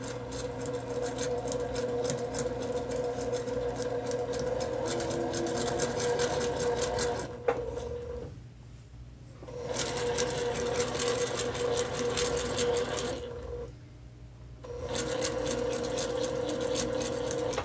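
A sewing machine runs a straight stitch through fabric for a heart pillow, a steady close mechanical whir that stops twice briefly as the fabric is turned around curves.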